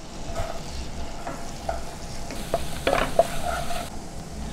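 Butter and finely chopped garlic sauté in a pan while making a cheese sauce, giving a soft continuous sizzle broken by occasional stirring scrapes and light clicks of a utensil.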